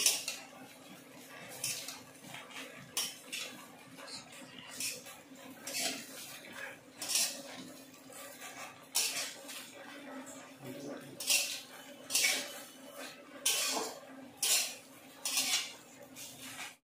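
Metal utensil scraping and clinking against a pan while drumstick greens are mixed with salt and a pinch of turmeric, repeated irregular scrapes at close range with a low background hum.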